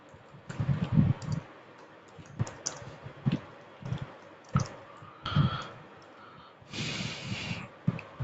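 Fingers type on a computer keyboard in irregular bursts of close, clicky keystrokes separated by short pauses, with no voices.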